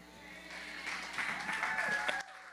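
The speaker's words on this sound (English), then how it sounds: "Give another round of applause, Miss LaShonda Gabriel." Audience applause after a gospel performance at a live show, a moderate wash of clapping swelling slightly then cutting off abruptly, with some voices mixed in.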